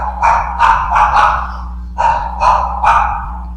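A dog barks close by in two quick bursts of three barks each, separated by a short pause.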